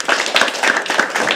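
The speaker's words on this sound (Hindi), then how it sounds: "प्लीज हर्ष के लिए तालियां बजाइए." Audience clapping at a live poetry open mic: a brief, close burst of hand claps from a small crowd with a quick, uneven rhythm and no voices.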